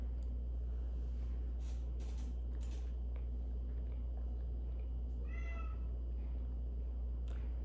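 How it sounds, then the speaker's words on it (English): A cat meows once in the background of a home kitchen, a short, faint cry about two-thirds of the way through, over a steady low hum with no talk. "I think you heard the cat in the background."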